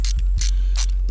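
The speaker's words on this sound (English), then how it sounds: "I find it easier to use an extension with a 14mm socket. Make sure your ratchet's on" A ratchet fitted with an extension and a 14mm socket loosens a bolt during a car seat install. It gives four short, loud bursts of crisp clicking, close up, with a low hum underneath and no talking.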